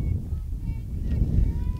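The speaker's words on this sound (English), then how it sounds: "Pretty windy today. I didn't know we were going to get this kind of wind." Gusty canyon wind buffets the microphone at an outdoor softball field during a state game, a low rumbling roar that swells and dips with faint sounds in the background.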